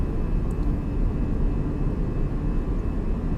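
A flight simulator airliner climbing out after takeoff on a Peru to Brazil route, its engines a steady, dense low roar that holds evenly without a break.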